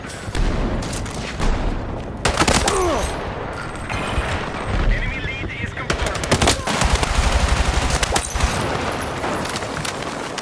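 Bursts of B36A4 assault rifle fire in the video game Battlefield 6, rapid automatic volleys with loud, dense cracks repeating through the whole stretch amid other battle noise.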